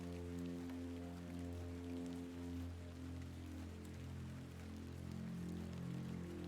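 Rain falling in the point-and-click adventure game The Excavation of Hob's Barrow, a soft continuous patter set over a low, steady musical drone, quiet and even throughout with no talking.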